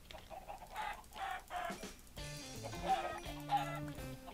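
Several Minecraft chickens cluck in quick succession, close and clear, the in-game fowl calls coming in bursts with short pauses between them and no one speaking.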